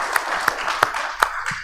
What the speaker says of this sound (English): So we're going to give a round of applause to y'all.